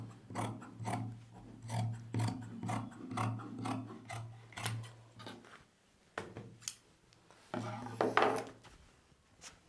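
Scissors cut through blouse fabric in a quiet room, making a steady series of short, rasping snips with a low hum underneath and a few louder cuts toward the end.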